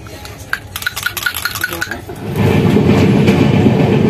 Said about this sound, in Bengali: এখন ট্রেনটা বেশ জোরেই চড়াচ্ছে